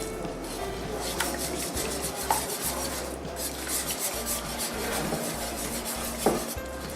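Milk is stirred into a pot of potato cheese soup, with a continuous rubbing, scraping sound of a utensil against the pot, steady and close, with a few brief clinks.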